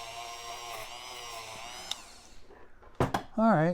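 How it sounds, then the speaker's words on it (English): A Dremel rotary tool whines at high speed while cleaning the commutators of a Lionel Switcher train motor. The steady tone cuts off midway and is followed by short clicks and a brief burst of talking. "So we're going to do that with the Dremel tool. Clean all that off as good as I can."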